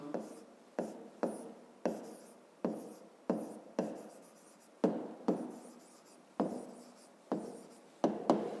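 Pen strokes writing prime numbers by hand on paper for a fifth-grade math exercise, a steady series of close scratching strokes, each starting sharply and trailing off, with no talking.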